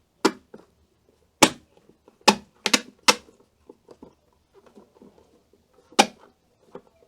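Sharp plastic clicks snap at irregular intervals as Subaru side mirror clips are pressed into place, some in quick pairs, with faint handling noises between them.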